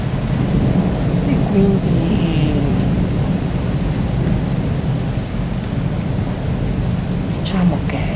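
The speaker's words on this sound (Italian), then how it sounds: "Guarda quanti fulmini, non ci credo, è micidiale." A heavy thunderstorm in Quartu Sant'Elena, Sardinia, in September 2016: steady loud rain pours without letup over deep rolling thunder rumbles, and a voice speaks briefly.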